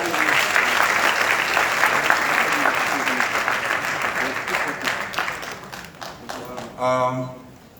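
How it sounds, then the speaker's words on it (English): Audience applause at an International Women's Day 2021 celebration in Liberia, a sustained dense clapping from a sizeable crowd that fades over several seconds, then brief handling noise at the end. "Let's clap for them"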